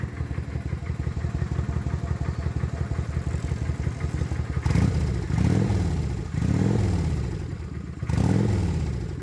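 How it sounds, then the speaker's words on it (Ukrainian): A Kawasaki Vulcan Classic motorcycle engine idles with a steady rumble, then revs sharply three times, each throttle blip swelling and falling back, loud and close. "Кавасакі вулкан. Класік, класичний. Нам дозволили погазувати."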